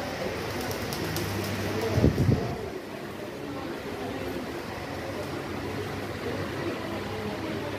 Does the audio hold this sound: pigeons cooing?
yes